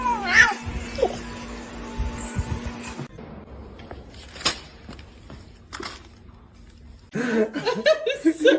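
A cat stuck in the floor meows and caterwauls in loud, strained, drawn-out cries with gaps between them. Laughter and voices are mixed in, and a burst of agitated yowling comes at the end.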